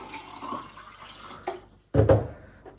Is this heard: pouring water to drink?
yes